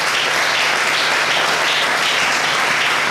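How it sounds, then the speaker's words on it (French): Church congregation at a Sunday worship service applauding and cheering, a dense, steady wash of clapping and voices that holds loud and unbroken throughout. "Est-ce qu'on peut acclamer le Seigneur?"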